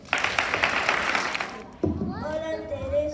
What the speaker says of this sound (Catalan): si us plau, un fort aplaudiment